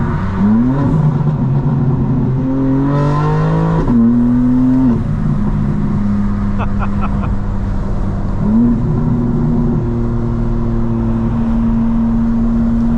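A modified 2025 BMW M4 CS engine drones steadily at low pitch while driving, rising and falling as it revs, with a few crackling exhaust burbles partway through.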